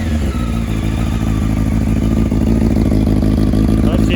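A 1997 Honda CBR600 F3 motorcycle engine idling cold on choke, a steady loud close-up running drone with a slightly rising, busy mechanical rumble throughout.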